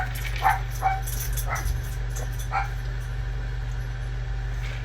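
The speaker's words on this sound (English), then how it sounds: "Apologies for the barking." A few short dog barks, somewhat distant, over a steady low hum, then quiet.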